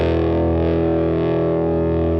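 An Eastman electric guitar rings through an amplifier with the gain turned fully up, giving a thick, heavily distorted sustained chord that holds steady and loud for a couple of seconds with no talking.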